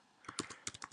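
Quick keystrokes on a computer keyboard as import lines for Flash code are entered, about half a dozen close, light clicks in a brief burst with no talking.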